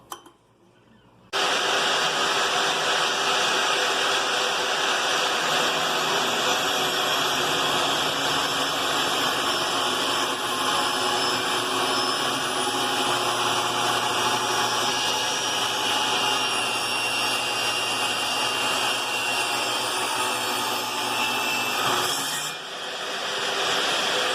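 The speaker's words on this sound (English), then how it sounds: "We're going to cut the countertop down to length. And this is the scary saw" A power saw runs steadily through a countertop being cut to length for a fish room build, a loud sustained whine starting abruptly after a brief pause and holding for about twenty seconds before tapering off, with no talking.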